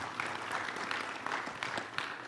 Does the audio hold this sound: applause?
yes